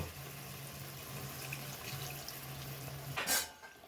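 Water poured into a pan of curry with taro stolons and masala, a brief splashing gush near the end after a quiet stretch with a faint low hum.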